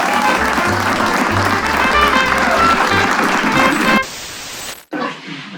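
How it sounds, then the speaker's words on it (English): An audience at a stand-up comedy show applauds loudly as the comedian is welcomed on stage, dense clapping filling the room for about four seconds before cutting off abruptly. "With a big round of applause, let's welcome on stage."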